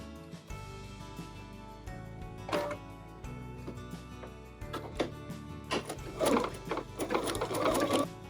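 A sewing machine running a blanket stitch around an applique edge, whirring in short bursts with pauses and then a faster, louder run near the end, close up with no talking.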